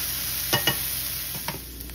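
Onions, shallots and garlic sautéing in a hot pan give a steady, close sizzle, broken by two quick stirring scrapes early on and a few softer ones near the end.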